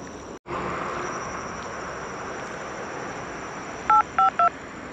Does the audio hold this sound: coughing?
no